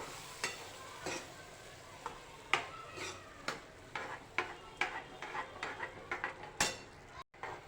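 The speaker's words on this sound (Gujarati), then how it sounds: "આ વટાણા સ્મેશ કરીને રાખ્યા છે એ લઈ લઈશું બરાબર મિક્સ કરી લઈશું" Mashed green peas get stirred into ragda in a pot, with a spoon tapping and scraping in a steady series of sharp knocks over a faint sizzle, close and fairly quiet, no talking.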